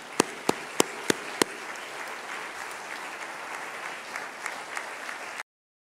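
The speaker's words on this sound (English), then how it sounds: "So please give him a round of applause." Audience applause at a Chamber of Commerce award honouring Ghana's President Nana Akufo-Addo: a few sharp, distinct claps up front, then dense, steady clapping from the crowd that ends abruptly.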